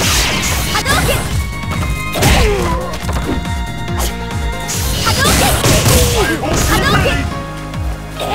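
Hadouken fireball attacks and hits in Super Street Fighter IV, a rapid series of loud smashing and thwacking impacts over game music, with character voice shouts mixed in.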